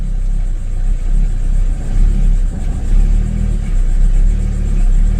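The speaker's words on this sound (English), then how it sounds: "you see how bad it's idling" A car engine idles roughly while running badly, a loud, close, uneven low rumble with unsteady surges and dips.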